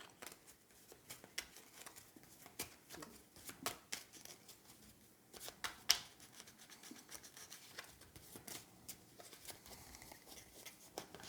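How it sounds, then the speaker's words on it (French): A deck of game cards shuffled by hand during a solo tabletop game, giving soft riffling and rubbing bursts with faint clicks, repeated through the stretch, quiet and close, with no talk. "je vais mélanger le paquet"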